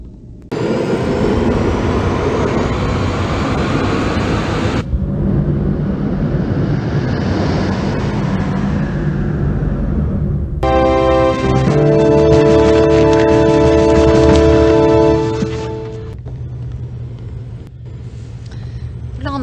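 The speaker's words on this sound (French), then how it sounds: "Prêt à décoller, capitaine." A spacecraft lifts off in the Wing Commander III film: a loud, sustained engine roar and rumble rising with a broadband whoosh, later joined by harsh tonal whining before fading into a lower rumble.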